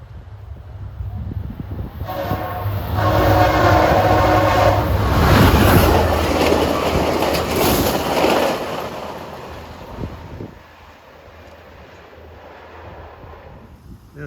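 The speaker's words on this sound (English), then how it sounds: "approaching 11:24 is Via Rail Train 60 from Toronto to Montreal" A Via Rail passenger train on the CN Kingston Sub near Lancaster, Ontario, sounds its horn and rushes past at speed. Loud rail roar and clatter build and peak, then fade away over several seconds.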